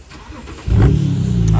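A car engine cranks and catches, then settles into a loud, deep, throaty rev close by, rising sharply from a quiet start and holding strong with no voices.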